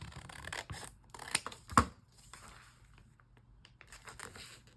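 Scissors snip through paper while trimming journal cards at a craft desk, a few close crisp cuts and rustles in quick succession, then softer paper handling in a quiet room.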